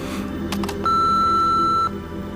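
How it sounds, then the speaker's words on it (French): A single steady electronic beep, about a second long, sounds clearly after a couple of brief clicks, then stops, leaving quiet background hum. "vous pouvez laisser un message ou envoyer un fax après le bip"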